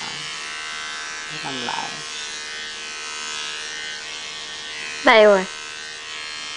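Electric hair clippers buzz steadily through a child's haircut, a constant mid-pitched drone close by, while adults speak over it and a child gives a brief cry.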